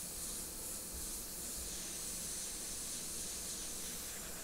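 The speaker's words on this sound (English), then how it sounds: "So I'm airbrushing the nose right now." Airbrush spraying soft, fine paint detail onto a high-top shoe, a continuous close hiss that stays level throughout with no voices.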